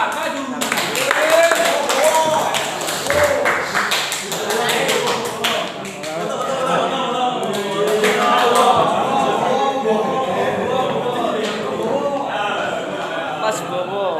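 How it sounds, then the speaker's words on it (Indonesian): Classroom audience clapping for a presenting student group at a vocational school physics product session, a lively mix of claps and taps over chattering voices that runs throughout. "kita kasih tepuk tangan yang meriah untuk kelompok 4"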